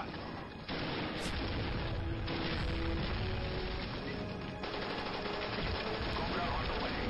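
Machine gun fire in a Star Trek TNG and Han Solo themed video game match, dense rapid bursts of automatic shots with booms, loud and continuous, with a voice speaking faintly underneath.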